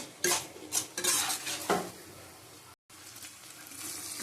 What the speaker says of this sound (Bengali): ভালো করে কষিয়ে নেবো আবার